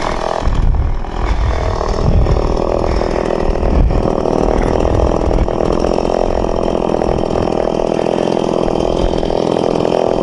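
A chainsaw runs loud and close, idling steadily after cutting wood, its engine note holding a rough, continuous drone the whole time.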